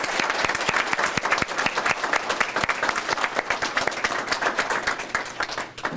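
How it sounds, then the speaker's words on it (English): Enthusiastic applause from a crowd at a children's awards ceremony, dense clapping sustained throughout, fairly loud and close, tapering slightly at the end. "Let's give them all another round of applause."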